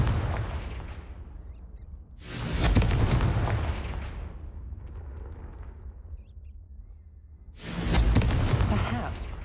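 The Confringo explosive spell in Hogwarts Legacy, set in a cave, fires two loud booming blasts with long rumbling decays over continuous game sound.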